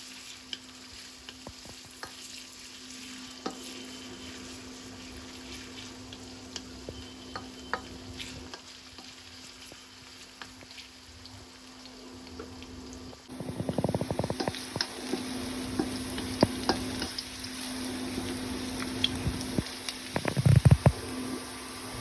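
Chopped onion and garlic fry in a pan, a steady close sizzle that grows louder and busier halfway through as a utensil scrapes and stirs, with no talking.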